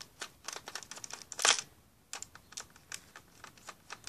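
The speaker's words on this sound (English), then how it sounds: "The two silver screws. So we gotta take those out." Small plastic clicks and taps come from two silver screws being removed from the orange panel of a Nerf Stryfe foam blaster, irregular and close, with one sharper burst midway.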